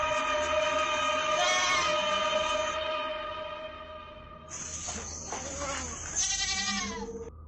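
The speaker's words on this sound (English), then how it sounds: "Penned in, the goats are making loads of noise as the owners get closer" Penned goats bleating at night in Indonesia, loud close cries rising and falling in two or three long bursts, with breathy hissing noise between them.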